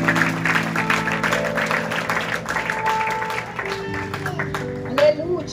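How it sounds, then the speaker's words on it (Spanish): A church congregation applauds in a sustained round of clapping, mixed with sustained organ or keyboard tones and some cheering voices, fairly loud and close throughout. "den un aplauso al Señor"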